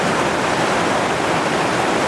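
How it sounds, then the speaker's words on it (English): Whitewater roaring through Chainsaw Rapid on the Gauley River at about 2800 cfs, a dense, constant rushing wash of water that stays loud and unbroken throughout. "enjoying these waves here in Chainsaw Rapid"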